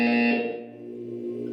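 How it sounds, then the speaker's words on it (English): A harsh, droning electronic buzzer sounds in a Portal 2 test chamber, loud at first, then fading into a lower sustained hum. "You will hear a buzzer."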